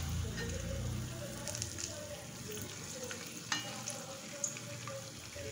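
Wheat flour sweet appam batter fries in hot oil over a medium flame, a continuous close sizzle and bubbling with a few light clinks of a utensil.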